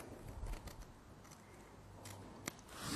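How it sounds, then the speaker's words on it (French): Scissors snip through cardboard corners along a traced pencil line while making a cardboard desk pad, giving close, dry crunching cuts in an uneven rhythm with a sharper snap near the end. "Je vais couper mes angles le long du trait"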